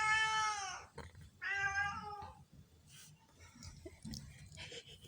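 A house cat meows twice close up, two drawn-out cries about a second apart, followed by softer rustling and mouth sounds.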